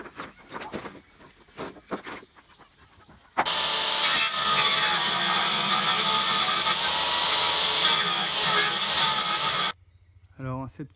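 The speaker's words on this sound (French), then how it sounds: "on va récupérer toutes ces petites lattes là que je vais couper à 7 cm pour faire tout le contour" Small wooden pallet laths being sawn to length during a pallet-wood cabin build, one long steady stretch of loud, close rasping saw noise lasting about six seconds, with quieter handling knocks before and a brief voice afterward.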